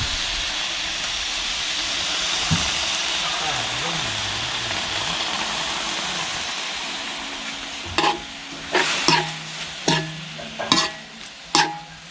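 Eel stir-fry in a pan for a spicy northeastern Thai dish, a steady broad sizzle throughout, then sharper bursts of spitting and stirring clatter near the end as water is splashed in.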